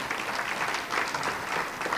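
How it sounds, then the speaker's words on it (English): Brief, steady applause from an indoor audience at a charity event, a dense patter of clapping at moderate volume with no voices over it. "go ahead and give him a round of applause"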